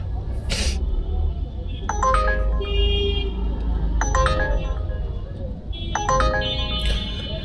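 A ride-hailing app's incoming-call ringtone sounds from a smartphone in a vehicle on the street: a bright repeating melodic chime in three bursts over low traffic rumble.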